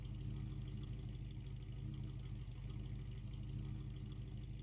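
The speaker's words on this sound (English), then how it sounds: "Got the right engine for the right sound." An engine in the Scrap Mechanic game idles with a steady, low, even drone, heard alone and fairly faint throughout.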